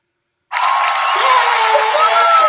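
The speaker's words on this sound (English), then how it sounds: "It's taken us 2 years to get our applause because we always did hand claps" A canned applause sound effect plays during a live stream, starting abruptly after a short silence as a steady, bright crowd of clapping and cheering that holds at full volume.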